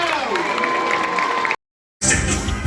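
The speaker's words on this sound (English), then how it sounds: "let's have a round of applause for the fire tornado!" Applause and cheering from a crowd of children and adults at a live science show featuring a fire tornado, with shouting and a tonal sweep, broken by a brief silent gap before clapping resumes.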